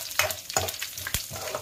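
Curry leaves and crushed garlic sizzling in hot oil in a pan, quiet crackling frying with several soft stirring scrapes at a steady pace, close and faint, no voices.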